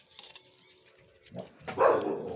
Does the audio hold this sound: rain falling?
no